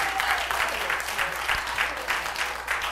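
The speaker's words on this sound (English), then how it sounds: "Let's give him a round of applause." Audience at a stand-up comedy workshop graduation showcase gives a steady round of applause, a dense even patter of claps with a faint voice or cheer underneath, sustained for a few seconds.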